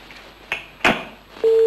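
A telephone receiver is hung up with two sharp clicks, and a steady dial tone then starts and holds. The sounds are close and fairly quiet.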